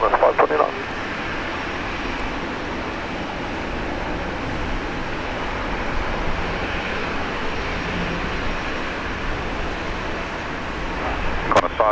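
An aircraft landing at Brisbane International Airport, a loud, steady engine roar that holds evenly throughout with no distinct breaks.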